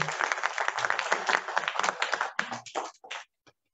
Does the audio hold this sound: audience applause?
yes